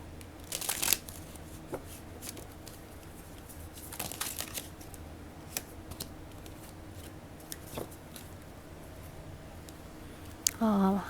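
Tarot cards are shuffled and drawn during a fortune-reading, with sharp riffling bursts near the start and middle and scattered soft card handling between them, close and fairly quiet, ending with a brief voice.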